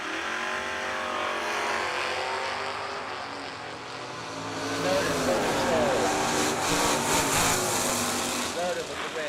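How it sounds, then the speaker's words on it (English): Drag racing cars, including a Chevy II, roar down the track at a bracket racing event, a loud sustained engine howl that swells and fades over several seconds while an announcer talks over it. "Robbie Sesko dialed in 639, taking Adam Snowden, 613 in the Chevy 2 in the right lane"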